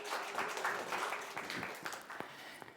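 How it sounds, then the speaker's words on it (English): A live studio audience at a body language show breaks into a steady round of applause, dense clapping filling the whole stretch at a moderate level, with no voices over it. "big round of applause for an agreement"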